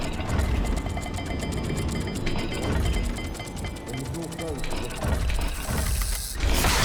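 Clicking, ratcheting mechanical turning of a rotating puzzle dial in Hogwarts Legacy, steady and close, with scraping and metallic ticks layered over a busy background.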